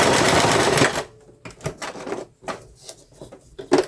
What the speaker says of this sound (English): Okay, so I'm just going to finish the stitching